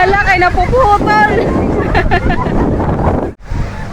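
Strong wind buffets the microphone in loud gusts while people talk over it outdoors in Holland.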